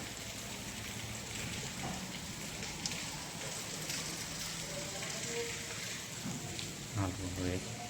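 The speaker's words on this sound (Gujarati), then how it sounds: "બજારમાં તો અત્યારે જોરદાર પાણી ચાલુ પડ્યું છે" Heavy monsoon rain in a Gujarati village keeps up a steady hiss and patter on surfaces, moderately loud, with a few faint voices and household sounds mixed in.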